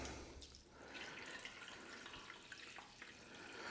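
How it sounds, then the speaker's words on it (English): Fresh water is poured into a container holding a polystyrene flower base with pins, a soft, faint trickling and splashing that runs on quietly throughout. "So I'm going to put fresh water, and just deep enough that it basically covers the pins."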